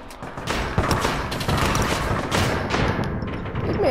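Rapid, dense gunfire from the APB Reloaded video game rattles continuously and loudly throughout, overlapping bursts with no pauses.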